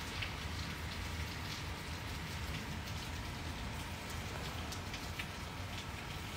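Steady, heavy rain pours down, a dense continuous hiss of drops hitting surfaces with no pauses and no voices.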